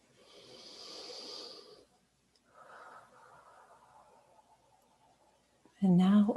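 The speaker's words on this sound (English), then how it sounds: "And breathe." Deep breathing during a guided meditation: a soft, airy breath, a pause, then a longer, quieter exhale, with a short louder sound at the end.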